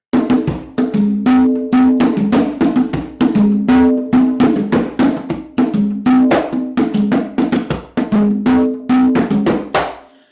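Conga drums play a wawanko rumba rhythm, a steady looping pattern of open tones and sharp slaps repeating over about ten seconds, loud and close with no other instruments.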